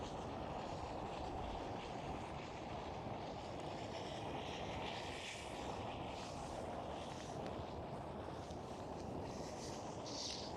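A Boeing 747 airliner at Schiphol airport gives off a continuous broad jet roar, steady and fairly distant, filling the whole stretch without a break.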